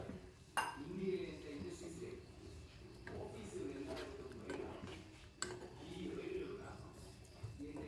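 A spoon stirs mango pulisseri curry with ghee and jaggery in a pot, giving soft scraping and occasional clinks against the pot, faint and under background talk.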